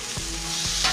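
An omelet and sausage patties fry in a pan for a big breakfast, a steady close sizzle punctuated by two soft scraping stirs.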